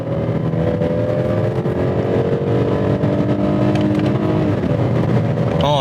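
A Kia K9 3.8 sedan accelerates at full throttle in second gear in sport mode, its engine note climbing in a loud, steady rising drone close by under a low road rumble, with a brief change near the end.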